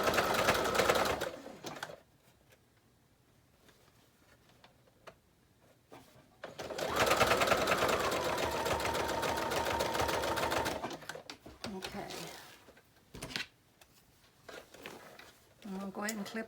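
A sewing machine stitches a fabric journal pouch in two bursts, one short and one longer, separated by quiet handling and bits of talk, the motor hum and needle patter close by.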